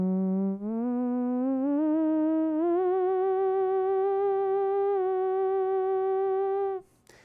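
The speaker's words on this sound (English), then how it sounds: "We can also add a vibrato to the sound like this." Theremin holding a smooth, sustained tone that steps upward in pitch a few times and then wavers gently with vibrato, a clean, close solo note that fades out near the end, with no talking.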